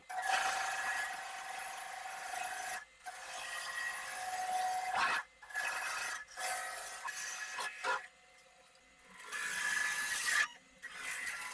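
An oak blank being shaped at the ends on a wood lathe with a ball gouge gives a raspy, scraping cut heard in short bursts, separated by quiet gaps, fairly soft and close.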